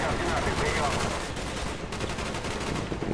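Gunfire in Call of Duty: Black Ops during a Vietnam mission, dense rattling bursts of automatic fire mixed with sharper shots, loud and continuous throughout, with no talk.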